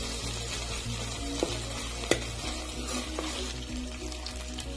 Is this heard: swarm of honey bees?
no